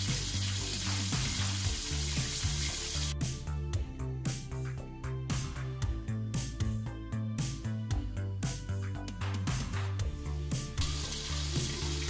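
KFC-style chicken pieces frying in oil over a medium-low flame, a constant bubbling sizzle with rapid crackling pops and intermittent clatter, close and fairly loud throughout, no talking.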